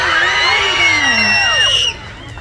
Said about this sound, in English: Can I hear a scream?